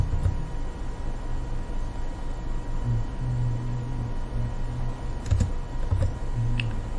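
Keys clack on a computer keyboard as a Linux copy command is typed, with soft irregular taps scattered through the clip over a constant low hum.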